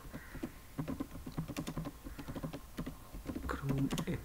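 Fast, close clicking of a computer keyboard as someone types in a browser, a dense irregular patter of keystrokes with faint room noise underneath.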